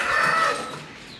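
Country chickens in a cage on a terrace, a short burst of close clucking at the start that fades into quieter rustling, with no voices.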